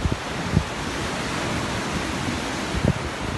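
Wind and sea waves at Sea Point, Cape Town, a steady broadband roar of surf and gusting wind buffeting the microphone, with a few low thumps and no talk.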